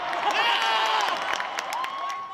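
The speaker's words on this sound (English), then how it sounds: "The huge crowd of rugby fans ensured a lively atmosphere as they cheered for their" Big rugby crowd cheering, whooping and clapping in a Hong Kong Rugby Sevens stadium during the 2022 tournament, a dense, loud, steady wash of many voices with rising shouts and whistles throughout.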